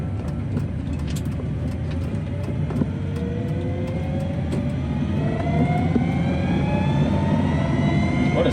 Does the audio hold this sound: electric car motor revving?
yes